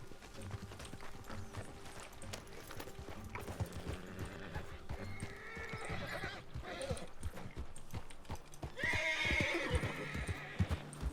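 A horse whinnies loudly near the end over steady hoofbeats and ambient game sounds throughout, from a glitched ghost horse in the Western game RedM.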